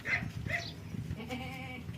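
A goat bleats twice in quick succession, close and loud, then gives a longer wavering bleat, with farmyard background and no talking; the animal is an old-bloodline breeding buck.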